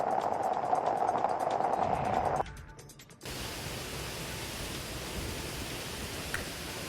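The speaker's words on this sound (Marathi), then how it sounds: "पाटण तालुक्यातील नवजा येथील प्रसिद्ध उजडे धबधबा ओसंडून वाहताना दिसतो" The Ujade waterfall at Navaja in Patan taluka, in Satara's Western Ghats, pours over in monsoon flood and gives a steady, broadband roar of rushing water. An abrupt cut partway through is followed by a continuous, even wash of noise.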